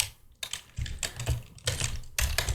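Computer keyboard typing in quick, uneven clusters of clicks, with short pauses between bursts, close and fairly clear with no talking.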